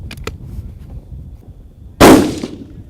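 A single loud, close rifle shot from a HOWA Bravo outdoors, a sharp crack with a brief decaying tail, after a quiet stretch with low background noise.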